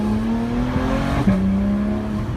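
A 2011 Porsche 911 GT3 accelerates hard, its engine note climbing steadily through the revs with a brief gear-change dip, loud and close from inside the car, no talk.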